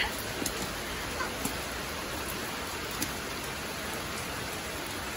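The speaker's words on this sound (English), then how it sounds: "You gonna go say hi to the rain?" Steady rain patters on a surface with a few sharper drips and taps standing out now and then.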